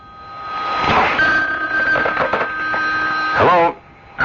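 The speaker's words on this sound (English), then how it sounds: "you'd better answer the phone" An old telephone bell rings loudly nearby, a metallic trilling burst that repeats and then cuts off, with some clatter underneath.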